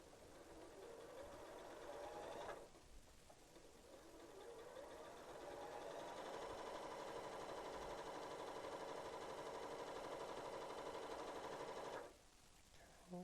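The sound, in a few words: sewing machine stitching quilt block seam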